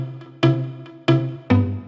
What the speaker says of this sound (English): This one is really dope and it's called Dawn